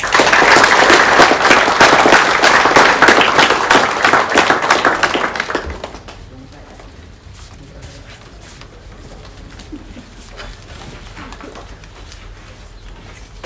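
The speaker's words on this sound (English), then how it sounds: "Let's have a huge round of applause for all of our volunteers." Audience applause for volunteers at a school sports awards ceremony, loud dense clapping filling the room for about six seconds before dropping away to quiet room noise.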